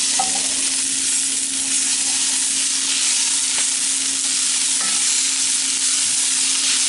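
Garlic frying in a pan for a Cajun butternut squash puree, a loud, steady sizzling hiss close up, with a few faint stirring knocks and a constant low hum underneath.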